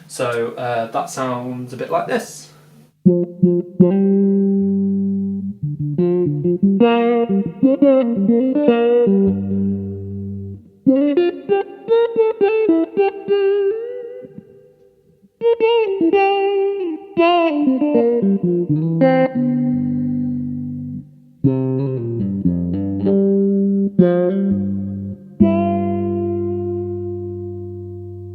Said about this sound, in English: this is the envelope filter preset, kind of based on the John Mayer Q-Tron sort of sound.